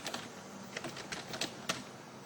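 Light keystrokes on a computer keyboard as a description is typed in, a loose run of soft clicks with a few sharper taps, fairly quiet and close, with no talking.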